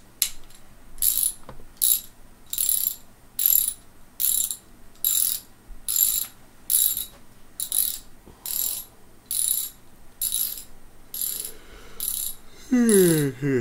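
A voice mimics a ratchet socket wrench with a steady series of about a dozen rasping clicking bursts in even rhythm, loud and close, ending with a rising vocal sweep.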